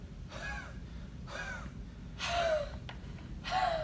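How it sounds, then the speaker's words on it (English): Three sharp, forceful huffing exhalations through an open mouth, spaced apart, with a slight squeaky edge, close to the listener. "we're going to try our huff coughing technique again"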